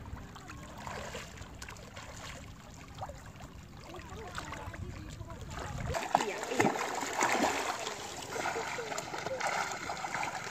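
Someone swims in water, making irregular splashes and trickling sounds that grow louder partway through, while voices talk over them.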